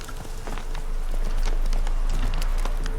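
Horse hooves galloping in the video game The Witcher 3, a quick, steady clip-clop drumming close by over a low rumble, with a faint voice under it.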